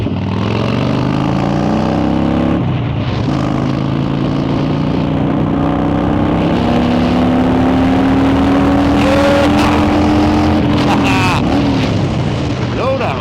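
A 2012 Harley-Davidson Dyna Wide Glide motorcycle pulls away under load, its loud, close V-twin engine rumbling steadily and rising through the gears with a brief shift pause partway through.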